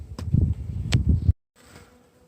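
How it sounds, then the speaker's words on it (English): Honeybees in an opened spring hive packed wall to wall, a close buzzing hum with a few louder passes of single bees near the microphone, then a sudden drop to a faint background drone. "Wall-to-wall box bees."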